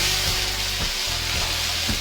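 Chopped tomatoes hit hot oil in a kadai after fish was fried there, giving a loud, continuous sizzle with a few soft spoon knocks as they are lightly stirred.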